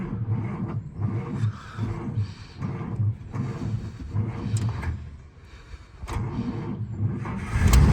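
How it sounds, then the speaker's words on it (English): A 1950 Pontiac Chieftain sedan engine with a 6-volt ignition system cranks in repeated rhythmic churning bursts, pauses briefly, then cranks again and rumbles louder near the end as it catches. "I'm going to start the car up for you and show you the engine bay."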